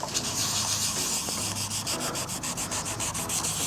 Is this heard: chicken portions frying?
no